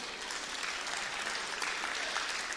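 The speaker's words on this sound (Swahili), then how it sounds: "Pigeni jamaa wa Prado makofi." Applause from a conference audience, dense steady clapping from many hands at a moderate distance, continuous and even with no speech over it.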